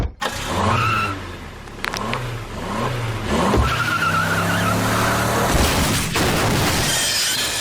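A cartoon car in Family Guy revs its engine and drives over an obstacle, with tires screeching, a crash and a shatter of glass, followed by sustained loud engine roaring.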